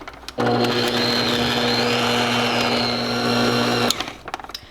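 An electric mixer creams eggs and sugar with Crisco for molasses drop cookies, a loud, steady motor whir starting abruptly and running about three and a half seconds before cutting off, then a few light clatters.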